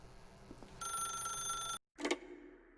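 A telephone rings in The Stanley Parable, one loud, sustained electronic bell tone that cuts off abruptly, followed by a short clunk as it is picked up. No one talks.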